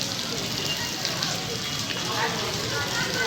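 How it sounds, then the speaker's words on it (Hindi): Heavy rain pours down steadily onto a flooded road outdoors, a dense, continuous hiss of water close by and without a break, with some talk mixed in beneath it. "बहुत तेज़ बारिश आया"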